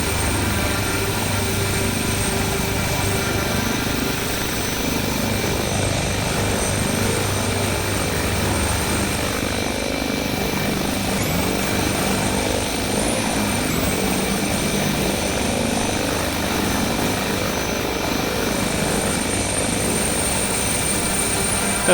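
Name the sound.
helicopter sounds in a video game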